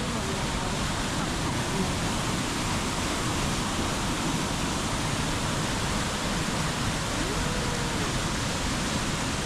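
A waterfall near Lake Chuzenji in Japan roars on a cold day, a constant, dense rushing wash of water that fills the whole scene without pause.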